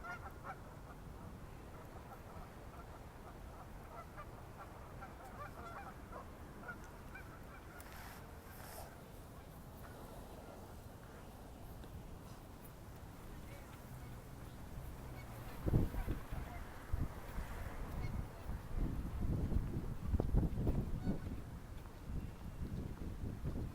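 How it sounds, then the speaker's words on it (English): Geese at the water's edge honk in scattered calls over wind noise, growing louder and more frequent in the later half. "The geese, they are signaling to each other an eternity."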